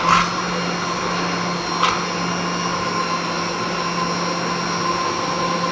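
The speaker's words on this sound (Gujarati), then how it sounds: "એકદમ લીસો બની જાય ત્યાં સુધી આપણે બ્લેન્ડ કરવાનું છે" Steady high whir of a blender running a vanilla kulfi protein milkshake, loud and even with a slight surge near the start and no talk over it.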